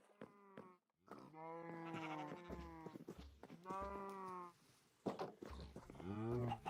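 Minecraft farm animals, cows spawned in an ocean setting, give a run of drawn-out, wavering moos and bleats, several overlapping calls close by, loud with short gaps between them.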